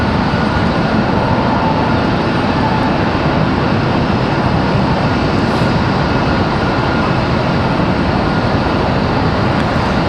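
A JetBlue Airbus A220-300 airliner arriving from Boston at Raleigh-Durham airport produces a loud, steady, broadband engine roar that fills the whole stretch without change, close and unbroken.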